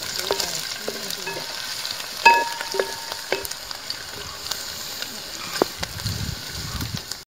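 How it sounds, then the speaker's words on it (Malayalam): A Kerala-style raw mango pickle mixture is stirred in a pan, giving a steady low sizzle with scattered scraping clicks and soft knocks throughout. "നമുക്ക് നന്നായിട്ടൊന്ന് ഇളക്കിയെടുക്കാം."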